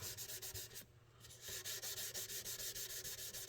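Steady rhythmic rasping of a sanding block across the frets of a Washburn D10N acoustic guitar during fret leveling, close up, repeated strokes with a brief pause partway through.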